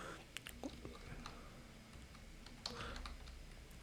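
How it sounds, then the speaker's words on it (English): Typing on a computer keyboard, soft, quick irregular key clicks close by, continuing lightly under a quiet room background. "then you can just type a name"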